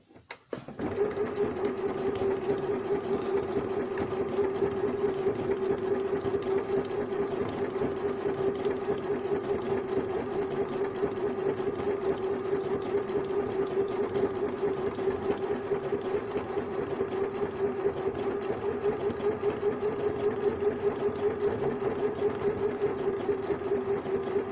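A sewing machine stitching appliqué runs steadily and loud for over twenty seconds, a continuous mechanical whirr with a fine rapid rhythmic clatter and no talking.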